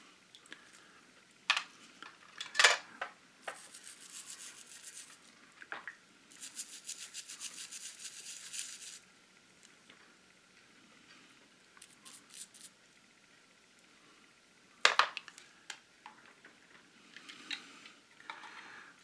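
An old toothbrush scrubs parts of a Jo-Han 1971 Oldsmobile 442 plastic model kit during paint stripping, giving short bursts of soft, close bristle rubbing separated by quiet pauses and a few sharp taps.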